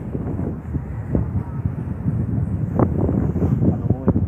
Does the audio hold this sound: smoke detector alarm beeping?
no